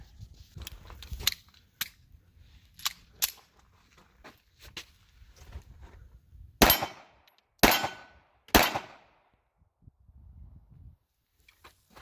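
A Taurus Spectrum pistol is fired in a short string of sharp shots, with several faint pops early on and three louder cracks at a slightly uneven pace near the middle, then quiet.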